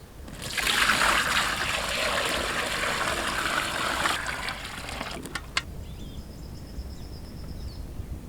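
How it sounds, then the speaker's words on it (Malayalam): Water poured into glass jars of beef for canning, a close gurgling trickle that runs steadily for about four seconds, then stops, leaving a few faint clinks and quiet room sound. "ഇതിനകത്തോട്ട് വെള്ളം കൂടെ ഒഴിച്ചു കൊടുക്കാം കേട്ടോ"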